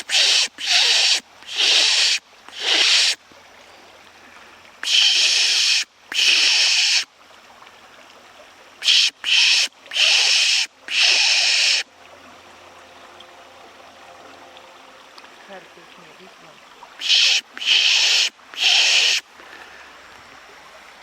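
A person pishes to attract birds, imitating a bird distress or alarm call with bursts of hissing shush sounds in groups of two or three, separated by quiet outdoor pauses at a wooded camp.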